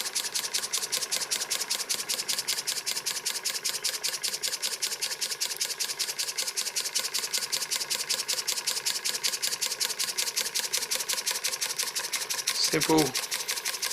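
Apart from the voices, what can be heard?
model steam engine with see-through cylinder running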